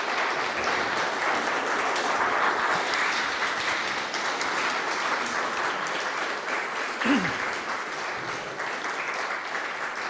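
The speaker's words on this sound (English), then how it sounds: "please give a warm round of applause for Steve Suini" Audience at a Workers' Party political event gives sustained, warm applause for a speaker, a dense, even wash of clapping lasting the full stretch with a brief voice sound partway through.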